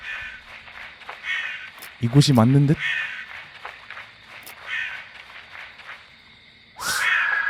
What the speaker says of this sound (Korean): 까마귀 소리도 들리는 거 보니까